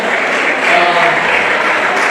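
Crowd applause at an anniversary celebration honoring past presidents, a dense, steady clapping that fills the room for a couple of seconds at close range.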